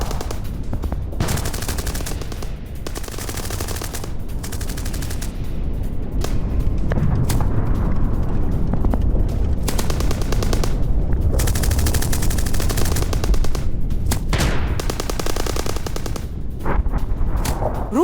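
Sustained gunfire during a Ukrainian army ambush in a forest near Dnipro: dense, continuous bursts of automatic fire and cracking shots, loud and chaotic, filling the whole stretch without letup.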